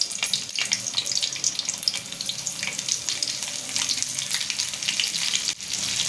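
Stuffed capsicums sizzle in a pan with leftover masala, a steady close crackle of hot oil with bright spitting pops running throughout at a fairly even level.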